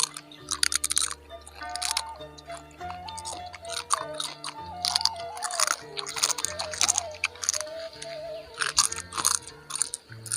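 Close, crisp crunching and chewing of rujak made with beubeuk fruit, also called buah huni or wild grape, in irregular bites over soft sustained background music.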